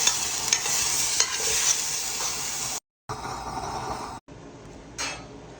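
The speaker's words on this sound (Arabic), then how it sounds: "نستمر بالتحريك بهالشكل" Crushed garlic with mashed onion sizzling in a pan, stirred steadily while making tahini with fresh molokhia, a loud continuous hiss with scraping strokes, briefly cut off twice by silent gaps.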